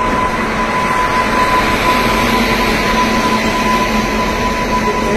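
A goods train built from converted ordinary passenger coaches rolls slowly through a station on a Bengaluru to Chalakudy rail route. It makes a steady, loud rumble with rolling wagon noise and no pauses.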